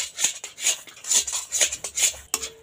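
A utensil stirring soft semolina dough in a metal pan, several scraping strokes close up in a loose rhythm, ending in a sharper clink.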